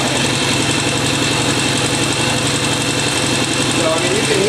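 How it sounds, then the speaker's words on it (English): A Norton motorcycle engine idles slightly high, a loud, steady, close-up chugging throb that holds even throughout. "I always set this bike to idle a little bit high"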